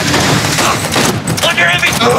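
Rapid, sustained gunfire from Cyberpunk 2077 street combat, dense and loud for the whole stretch, with overlapping bursts and no pause.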